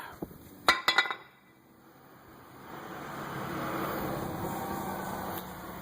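Front brake rotor of a 2006 Ford Fusion sliding off the hub, a quick cluster of sharp metallic clinks followed by quieter scraping and handling noise.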